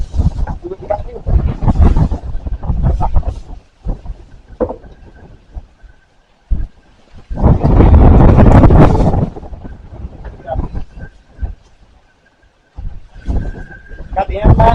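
Strong squall-line storm wind over the Saint Johns River roars in loud, gusting surges against the microphone, with heavy blasts coming and going, a brief near-lull, and a voice speaking in between.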